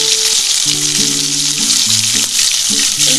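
Ground paste of onion, ginger, garlic and green chilli sizzling loudly in hot oil, a steady, dense frying hiss running the whole time, with low tonal hum beneath, no talking.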